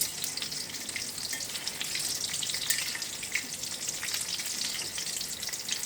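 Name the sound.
kakrol (spiny gourd) frying in oil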